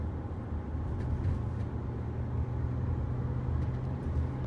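Honda Accord engine running steadily with a low, continuous drone while the driver shifts up through the gears, heard from inside the car with no speech over it.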